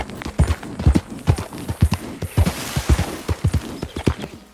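Horse hooves clip-clop at a steady riding gait in the video game Red Dead Redemption 2, close and loud, with a continuous rhythm of hoofbeats and no talking.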